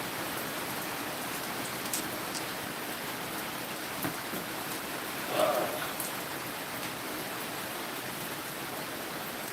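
Steady, even hiss of rain falling in Tennessee, constant throughout with a couple of faint taps and a brief soft knock midway.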